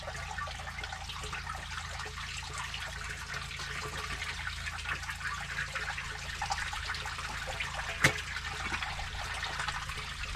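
Steady hiss of water rushing and trickling out of a split-rim tire on a 1962 Peterbilt 351 truck, continuous and fairly loud, with a brief sharp knock partway through.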